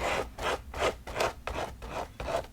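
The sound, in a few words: palette knife scraping paint over sandy areas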